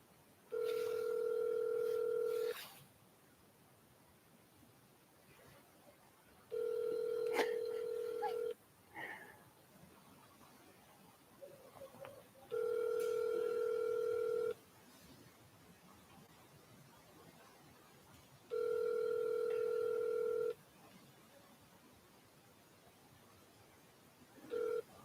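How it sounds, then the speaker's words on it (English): A phone ringback tone repeats four times, each steady two-second burst separated by several seconds of quiet, with faint background noise between rings. "It's ringing again."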